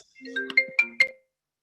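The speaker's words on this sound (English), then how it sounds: "My phone's going off." A mobile phone rings with a short melodic ringtone, a few quick rising tones heard loud and clear, then cut off into silence.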